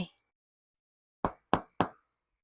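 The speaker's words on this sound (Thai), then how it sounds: "เสียงเคาะประตูดังขึ้น" Someone knocks on a door three times in quick, evenly spaced raps, close and crisp in an otherwise silent room, after a brief faint noise at the start.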